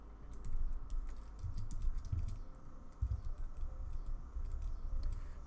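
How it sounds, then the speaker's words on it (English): Rapid, irregular clatter of keys on a computer keyboard, close and fairly quiet, with short bursts and pauses as fields are typed into. "we basically want to type into these fields"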